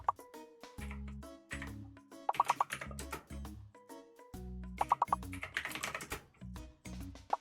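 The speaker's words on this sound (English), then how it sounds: "We're all just typing stuff in." Rapid typing on a computer keyboard, with irregular bursts of clicking keys and short pauses, close and fairly clear, with no voices.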